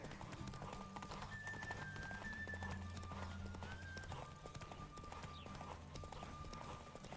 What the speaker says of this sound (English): A horse race is what's going on.